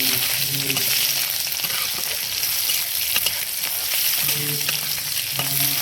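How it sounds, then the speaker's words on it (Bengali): Onions frying in hot oil with dried chillies and panch phoron, a steady close sizzle broken by the scrape and clatter of a spoon stirring the pan, with no talking. "তারপরে এই পেঁয়াজটা দিয়ে দিচ্ছি লাল হয়ে গেছে আমার মা নাড়ছে"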